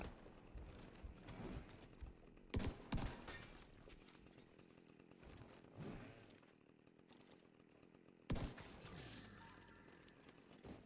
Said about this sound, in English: This guy actually has a chainsaw?